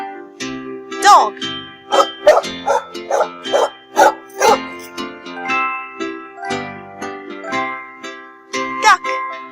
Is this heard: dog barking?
yes